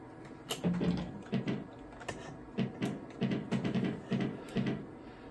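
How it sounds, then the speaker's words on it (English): Keys on the keyboard of a Gateway 2000 486 computer running Windows 95 are pressed in short uneven bursts of close, hollow clacks with pauses between them. "so it's hard to use the keyboard"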